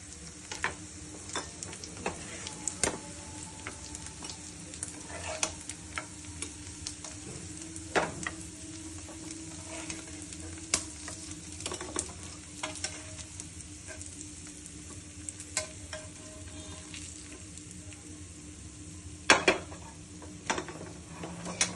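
Fish-oil fritters fry in a pan with a steady, fairly quiet sizzle, broken by occasional clinks and scrapes of a utensil against the pan. No one speaks.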